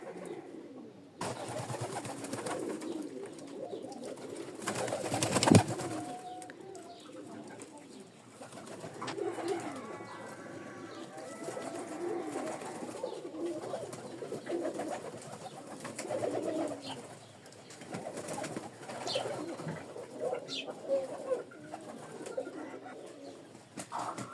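Pigeons coo softly outdoors, their low repeated calls fairly faint under steady background noise, with a brief louder knock partway through.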